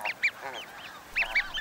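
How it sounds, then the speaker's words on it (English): Geese at a summer nesting colony give short, nasal honks in quick clusters, several birds calling close together with brief gaps between bursts. "At the goose colony, it's high summer and eggs are hatching."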